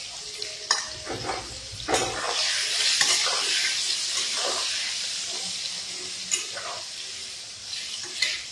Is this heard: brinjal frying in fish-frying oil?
yes